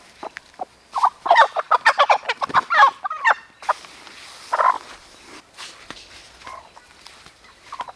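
A hen near the coop clucks and squawks in a quick burst of sharp calls, then gives a few scattered clucks at close range.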